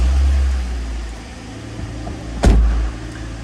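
A 2-litre Mazda MX-5 engine cranks and catches with a sharp burst, then settles into a steady low idle that stays close and fairly loud.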